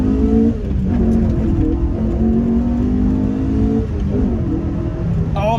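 A Honda-powered 1990s Rover Coupe engine revs hard while being driven, giving a loud, steady drone that climbs through the gears with a brief dip near the start and a shift near the end.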